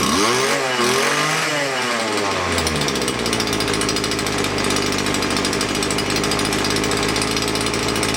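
Small two-stroke strimmer engine revving down then settling into a steady, buzzing idle, loud and close, running on alone without talk.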